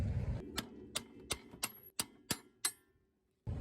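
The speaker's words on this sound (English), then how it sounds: "Now I'm going to take a hammer and I'm going to tap down on it." A hammer taps metal about eight times in a steady rhythm while fitting coilovers on an Acura Integra, each strike a sharp clink, followed by a brief pause.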